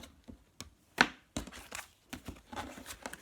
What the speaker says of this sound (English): Let's split these cards so we can get a good shuffle.